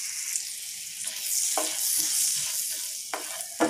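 Cinnamon, a split bay leaf, a clove and fennel seeds fry in butter, a steady bright sizzle with a few sharp stirring clicks near the end.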